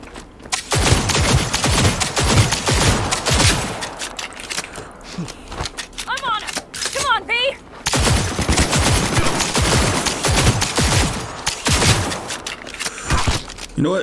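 Loud, dense gunfire in Cyberpunk 2077 comes as rapid overlapping bursts and shots, close and sharp, with a few brief shouted voices between volleys.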